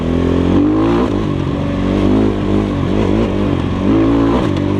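A Kovi Lite 300 KT Chinese enduro motorcycle rides past on sand, its engine loud and close with steady harmonic drone and rising, falling revs through several throttle changes, no talk.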